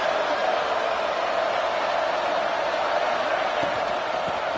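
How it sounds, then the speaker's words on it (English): A steady, dense roar from a packed stadium crowd in College Football 26, a continuous loud wash of cheering noise with no clear breaks. "It's early, but this crowd is fired up. Listen to this noise here."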